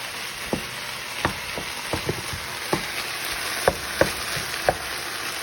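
Italian sausage and hamburger sizzle steadily in a pan as they brown, with a series of sharp scraping and chopping taps from a utensil breaking up the meat, no voices.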